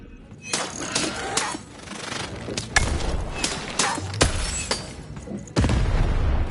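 Cannon blasts in Lost in Random, several heavy booms with crackling debris spaced a second or so apart, loud and close amid a busy mechanical game soundscape with no voices.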